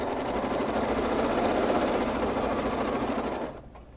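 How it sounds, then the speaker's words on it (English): Sewing machine stitching steadily while quilting along a ruler, a fast even mechanical whir that holds for several seconds, then stops abruptly. "Hold it in place, and then quilt along that ruler until I touch the other seam"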